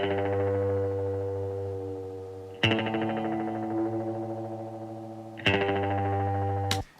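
Distorted electric guitar played through a Mini Brute amp, recorded close and dry: sustained chords ringing out, restruck twice with sharp attacks, moderately loud and free of room ambience.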